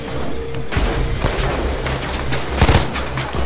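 Rapid bursts of gunfire from akimbo pistols in the heist game Payday 2, dense overlapping shots emptying the guns quickly, loud and continuous throughout, with a heavier crack near the end.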